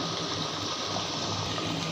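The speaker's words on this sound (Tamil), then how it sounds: "இதுக்கு தேவையான அளவுக்கு தண்ணி ஊற்றி நம்ம ஓட விட்டுறலாம்" Water is poured into a running wet grinder holding soaked ration rice and millets for idli batter, giving a steady, close, continuous rushing and churning wash with no breaks.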